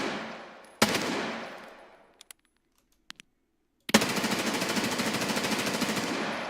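Automatic gun firing in Escape From Tarkov, a loud sustained burst that trails off, a few single sharp shots after a pause, then a second long rapid burst, close and with no talk.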